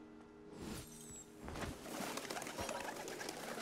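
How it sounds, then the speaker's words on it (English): Birds flutter and coo close by with a burst of flapping wings in the video game Shadow Tactics: Blades of the Shogun, over a busy background of rustling and game ambience. "I think that guy heard me disturb the birds"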